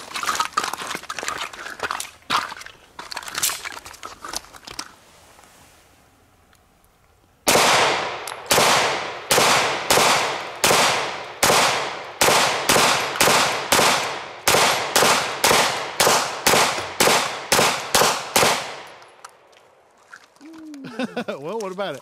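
Rapid pistol shots from a Taran Tactical Wicked 19 Glock at a shooting range: roughly twenty sharp, loud reports in a steady fast string lasting about eleven seconds, with speech and handling noise before the string begins.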